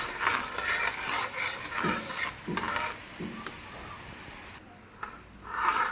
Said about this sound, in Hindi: आपने इसमें मुसलसल चम्मच मारते रहना है क्योंकि ये नीचे ना लग जाए